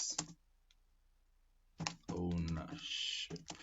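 A computer keyboard being typed on, heard as a quick burst of close clicks near the start, then a person talking over the later part.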